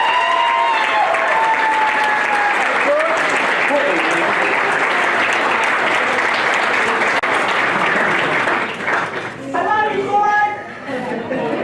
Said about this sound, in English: Can we give a round of applause to our president of the Ambulance Corps